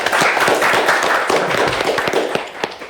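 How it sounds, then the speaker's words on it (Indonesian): A small group of people clapping at a local government event, dense, uneven applause with sharp hand claps close by, fairly loud and sustained for about three seconds. "Tepuk tangan lu dong"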